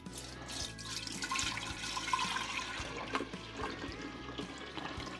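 Homemade grape juice poured into a Big Mouth Bubbler fermenter, a little over 128 fluid ounces: a continuous close liquid splash and gurgle with a few small knocks, steady throughout.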